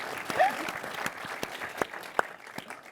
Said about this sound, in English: another round of applause for whatever